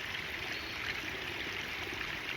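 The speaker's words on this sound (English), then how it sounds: "I would see water trickle down through here" Water trickles down a small, gentle waterfall in a steady, even rush, soft and continuous at close-to-middle distance, with no talking.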